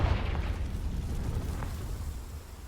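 Confringo blasting spell in a Harry Potter video game, a loud close explosion burst at the start followed by a rumbling boom that slowly fades, no talk.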